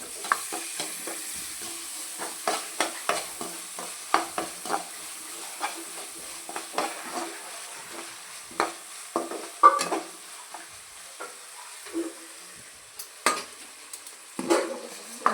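Tomatoes frying in a pan with a soft background sizzle, broken by irregular scraping clinks of a spoon stirring against the metal, close and fairly quiet with no talking.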